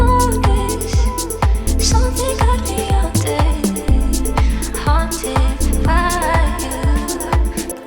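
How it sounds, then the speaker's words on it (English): A band groove plays with a low, smooth bass line holding long notes under plucked, rhythmic upper parts, fairly loud and continuous. "smooth, sustained bass line that's going to complement that floaty vibe"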